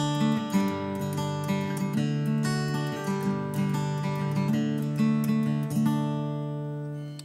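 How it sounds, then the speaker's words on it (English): Acoustic guitar strummed in the original pattern of a song, a steady rhythmic run of chords played close and alone with no talking. "So that's how the song sounds like with the original strumming pattern."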